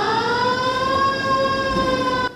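Fire station alarm siren sounding during a firefighter cadet training drill, a loud, steady wailing tone with strong harmonics that holds evenly for a couple of seconds before cutting off, with no talk.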